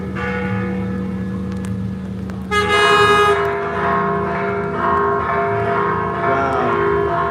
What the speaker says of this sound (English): Listen to the church bells.